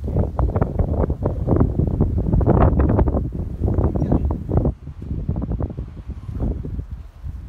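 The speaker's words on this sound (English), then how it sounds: "it's really cold and windy out here" Cold wind blowing hard outdoors, a loud continuous roar of gusts buffeting the microphone, heaviest in the first few seconds and easing slightly later, with no speech.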